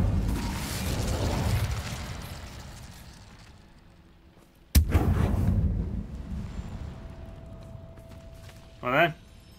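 Incendio fire spell from the Hogwarts Legacy video game: a sudden sharp burst erupts midway and trails off into a rushing roar, after a stretch of whooshing game noise, with a brief warbling magical flourish near the end.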